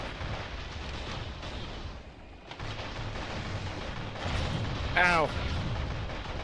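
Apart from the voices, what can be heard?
gunfire from mech weapon in video game Heavy Storm Shadow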